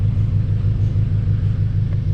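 A car engine rumbles steadily at low idle as it is driven slowly into a parking spot, close and loud, with no voices.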